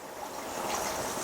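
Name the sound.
batter poured into appam pan with a ladle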